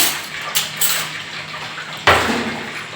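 A spoon stirs sugar into juice in a vessel, making soft clinks and scrapes against the sides under a low background wash, with a sharper knock near the end.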